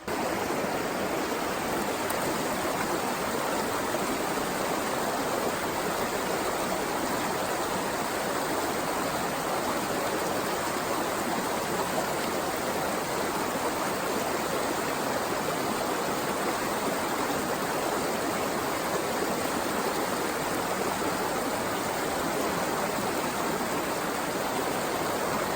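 A shallow, riffly brook trout stream in Schuylkill County, Pennsylvania rushes steadily and close by, a dense, unbroken wash of flowing water with no voices.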